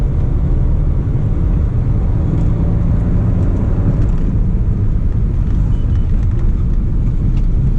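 A Stage 1 tuned Suzuki S Cross engine drones steadily while driving, a loud, continuous low rumble blended with road noise, with no one speaking.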